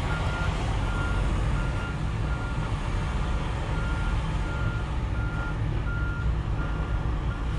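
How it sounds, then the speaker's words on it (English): A truck's backup beeper repeats at a steady interval, faint and thin over a loud, constant engine and road rumble inside the cab. "And this guy's got a backup beeper."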